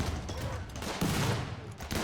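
Rapid volleys of launcher turret fire in the colony-defense game RimWorld, a dense continuous barrage with no clear gaps between shots, loud and close throughout.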